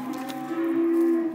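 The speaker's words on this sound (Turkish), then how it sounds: "İnekler yine bağırıyor." Cattle in a barn beside freshly washed calves let out one long, loud, steady moo that holds its pitch for about a second, with no talking over it.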